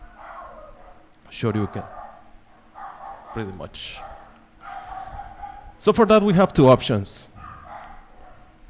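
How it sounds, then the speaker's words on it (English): A dog barks in a few short, sharp bursts in the background, with a cluster of quicker yips near the end, while someone talks over it. "I don't know if you can hear the dog barking."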